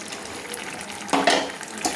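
Fried eggplant stirred into bubbling gravy in a pan for a vegetarian Bengali pui shak chochhori, a short wet bubbling and swishing that swells in brief bursts, close and fairly quiet.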